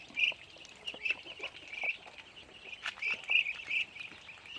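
Ducks and chickens, including young two-month-old birds, call repeatedly on a Thai farm, with sharp quacks and clucks coming in bursts at close range over a busy background of other fowl.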